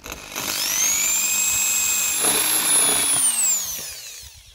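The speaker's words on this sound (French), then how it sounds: "je vais percer le trou" A power drill boring a hole through a van roof, a loud, high whining spin that holds steady for several seconds, shifts pitch as the bit bites through metal, then winds down.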